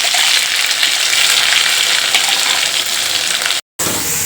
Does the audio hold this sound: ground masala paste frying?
yes